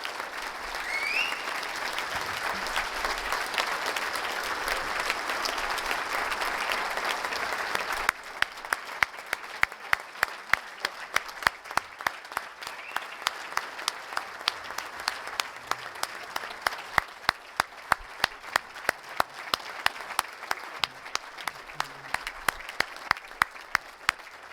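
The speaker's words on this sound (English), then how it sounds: "How about another round of applause for all our inductees tonight?" A crowd at a hall of fame induction ceremony gives the inductees a long round of applause. A dense wash of clapping lasts about eight seconds, then thins into sharper, more spaced individual claps that keep going to the end.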